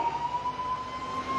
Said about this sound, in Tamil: ஆம்புலன்ஸ் வருது, வழி விட்டுருங்க